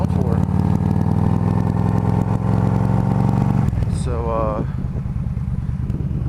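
Motorcycle ridden through the streets of southern Fairbanks, engine droning steadily and loud for several seconds, then easing to a lower idle-like rumble as a voice speaks briefly over it.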